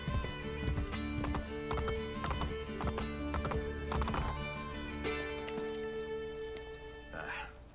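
Horse hooves clip-clop in a steady trotting rhythm in Assassin's Creed Brotherhood, over a sustained musical score, with a brief neigh near the end.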